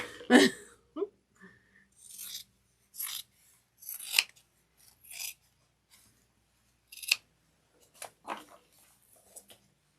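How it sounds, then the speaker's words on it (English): Scissors cutting a handbag pattern, a series of crisp snips and slicing crunches heard up close, irregularly spaced with short pauses between cuts. "Does anyone else like the sound of scissors when it's cutting stuff?"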